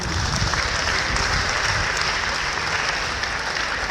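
A church gathering claps loudly and continuously, a full, even roar of many hands with faint voices mixed in throughout.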